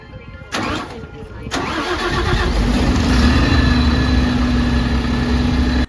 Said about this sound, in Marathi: गाडी चालू करा